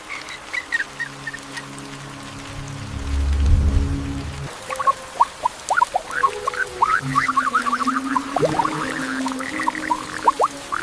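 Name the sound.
rain falling on shoebill nest in swamp reeds at night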